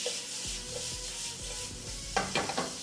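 Giant tiger prawns sear in a hot pan, a steady close sizzle with repeated scraping stirs and a few sharper clatters near the end, no voices.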